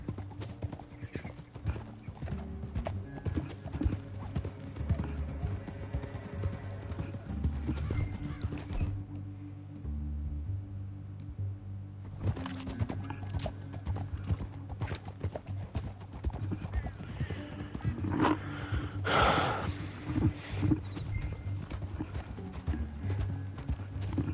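Horse hooves clip-clop in a steady rhythm in Red Dead Redemption 2, alongside occasional whinnies and low rumbling, with a short quieter gap midway before the hoofbeats resume.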